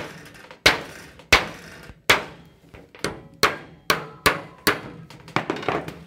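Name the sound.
hammer and screwdriver punching sheet metal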